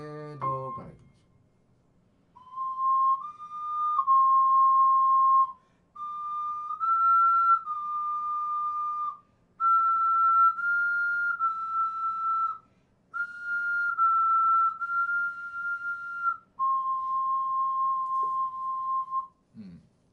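Ocarina practised in a home lesson, playing a slow scale exercise of sustained notes in about six phrases separated by breaths, clear and close in a quiet room.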